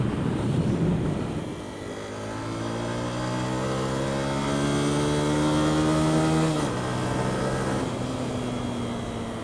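Honda CBF 125 motorcycle at full throttle in fifth, its top gear, the engine note climbing steadily under a loud wind-buffeted drone, then dropping abruptly before settling into a steady hum.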